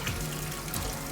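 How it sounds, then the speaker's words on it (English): Hot tap water rinses drained tapioca pearls in a pot, a steady, fairly loud rush of water with no talk. "We wanna be rinsing it in that hot water."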